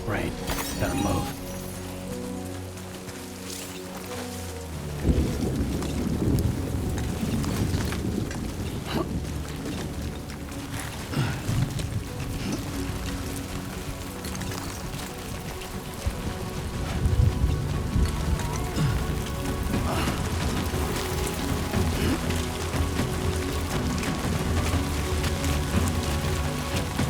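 Steady rain pours across the open terrain of the video game Death Stranding 2, with a dense constant wash of drops and occasional sharper cracks, swelling after a few seconds and holding loud under a low musical bed.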